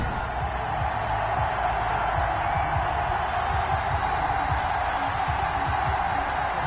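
A large stadium crowd at a Madden football video game matchup between the Dallas Cowboys and the Oklahoma City Bison roars as a steady, dense wash of cheering and noise, even and unbroken throughout.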